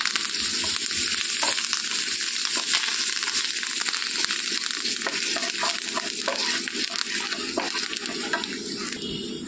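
A Telugu tempering of asafoetida and curry leaves for cucumber chutney sizzles and crackles hard in hot oil, with steady stirring and scraping close by and no speech.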